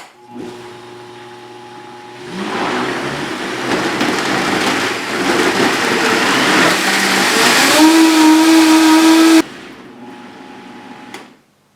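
A kitchen blender purees lemon pie filling with the lemon seeds left in, starting with a quiet hum, then surging into a loud, steady whirring grind that rises in pitch near the end before cutting off abruptly.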